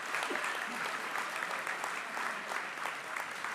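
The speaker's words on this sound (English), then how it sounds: "Can we give them a big round of applause?" Applause from a graduation ceremony audience thanking marshals and volunteers, a steady wash of many hands clapping at moderate level throughout, with no speech over it.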